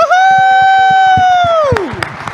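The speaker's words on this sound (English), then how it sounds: "Can we give her a round of applause?" Audience at a Money20/20 panel event cheering for Sue Mitchell's birthday, with a loud sustained whoop over a dense crowd of clapping that builds toward the end.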